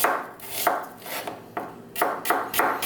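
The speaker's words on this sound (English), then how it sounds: "1 yellow onion, thinly sliced." A knife slices a yellow onion thinly on a cutting board in a series of crisp, quick cuts, close up, with no talking.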